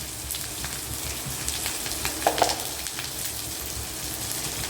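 Onions frying in oil in a home kitchen make a steady, fairly soft sizzle with a few brief crackles partway through. No one speaks.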